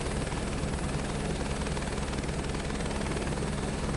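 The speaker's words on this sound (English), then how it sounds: "since we're doing like a little heli tour" A helicopter flies a sightseeing tour in Microsoft Flight Simulator 2024, its rotor and turbine producing a loud, steady, continuous drone with a rhythmic blade beat and no pauses.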